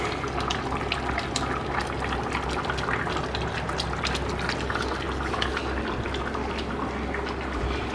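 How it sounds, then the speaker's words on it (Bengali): Meat curry boils in a pot with a steady, dense bubbling and simmering that fills the space evenly and close up, with no talk over it. "এবার ভালো করে ফুটিয়ে মাংসটাকে তৈরি করে নিতে হবে।"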